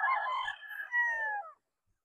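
A Kelso breed rooster crows once in a drawn-out call lasting about a second and a half, fairly close and clear, then falls silent with no voices over it.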